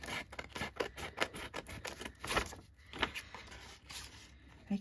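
Scissors snipping through dictionary-page paper, a quick series of close, crisp cuts in an uneven rhythm.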